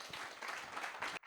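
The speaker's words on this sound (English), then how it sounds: "Round of applause for the panel." An audience claps for a panel at an education event, a dense, steady patter of applause lasting about a second before cutting off sharply.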